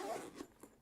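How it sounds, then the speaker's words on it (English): A zipper on a keyboard's carrying case is pulled open in a short, close scratchy burst that tapers off, with a couple of small clicks near the end and no one talking. "Zipper."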